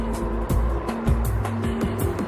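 A car manoeuvres backward on a road after being struck by a U-turning petrol tanker, its engine revving in a steady rumble with repeated low thumps and bursts of noise, close and loud, with no talk.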